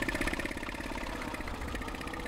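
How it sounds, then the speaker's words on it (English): Engine of a 1928 Centaur Model G two-cylinder tractor built by the Central Tractor Company of Greenwich, Ohio, running steadily with a dense, even throb, moderately close and alone. "This 1928 Centaur tractor draws attention everywhere it goes."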